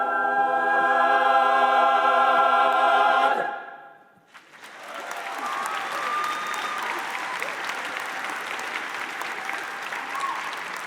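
Audience applause for a choir at a university convocation ceremony fills the hall, a steady broad wash of clapping that follows the choir's sustained final singing and a brief pause.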